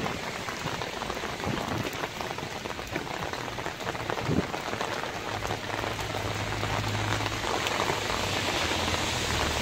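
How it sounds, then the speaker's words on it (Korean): Steady rain pours at the steps up to the old Namsan Children's Hall in Seoul while water runs down the sides of the stone stairs, a constant close hiss of drops spattering on hard surfaces with a low trickling flow underneath. "지금 비가 오기 때문에 계단 사이드에는 자, 이렇게 물이 이렇게 흘러내립니다."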